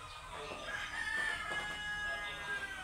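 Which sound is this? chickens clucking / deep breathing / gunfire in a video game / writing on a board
chickens clucking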